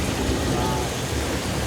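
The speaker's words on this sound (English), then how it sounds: "Our sprinkler spigots are mounted on big poles, pointed straight towards the sky so the camera can capture the falling water like naturally occurring rain" Artificial rain pours from sprinkler spigots mounted on tall poles aimed at the sky on a film set, a steady, dense hiss of falling water that fills the short stretch evenly without a break.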